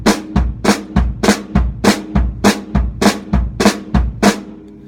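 A drum set plays a fill of repeated snare and bass drum strokes in a steady driving pattern, about ten loud, close hits in under five seconds, ringing out at the end.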